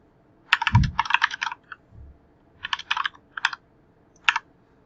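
Keys clatter on a computer keyboard in quick clustered bursts of typing with short gaps, close and clear, no voices.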